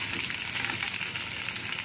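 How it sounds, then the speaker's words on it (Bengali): Soaked chickpeas fry and get stirred in a hot pan, a loud, continuous close-up sizzle with the light scrape of stirring running through it. "আবারও একটু নাড়াচাড়া করব।"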